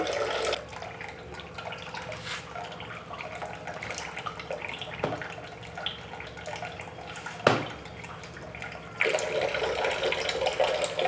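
Water runs steadily from an Enagic SD501 water ionizer machine during deep cleaning with a booster pump, a soft continuous flow at moderate distance with a few brief clunks and a louder gush near the end.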